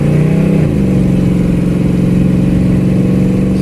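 An old four-wheel-drive truck, the Bandit, accelerates hard, its loud engine rising in pitch and then settling into a steady, throaty pull, heard close up from inside the cab without talking.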